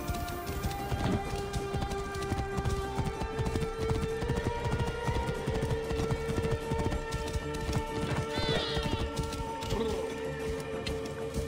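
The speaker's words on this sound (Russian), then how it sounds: "Это лошадь Мереда." Steady clip-clop of a horse's hooves in Assassin's Creed Origins, a continuous trotting rhythm at moderate loudness with faint game ambience and a brief high whinny-like tone near the end.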